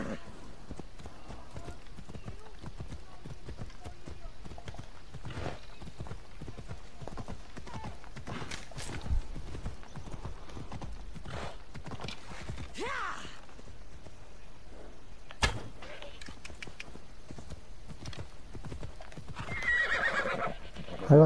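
A horse in the video game Assassin's Creed Odyssey trots with steady clip-clop hoofbeats throughout, with a few loud whinnies and neighs breaking through, while a person talks over the gameplay.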